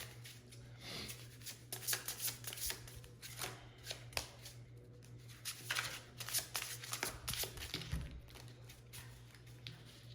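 Close and fairly quiet, a deck of Ohsset Gypsy tarot cards is shuffled, with crisp riffling and flicking in an irregular stream of taps and slides for about ten seconds and no talking.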